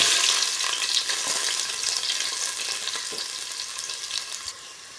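Ginger and onion sautéing in a pan for chicken soup with Chinese cabbage, a bright, continuous sizzle with occasional stirring scrapes, close and steady, gradually settling toward the end.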